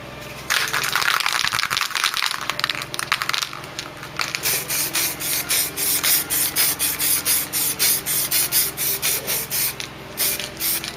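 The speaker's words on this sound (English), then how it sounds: "We'll keep building that paint up, so keeping on going there with paint and sanding." Paint on a Mk3 Ford Cortina body panel is sanded lightly by hand with fingertip pressure, giving rhythmic, close scratchy rubbing strokes that repeat steadily in short bursts with no talking.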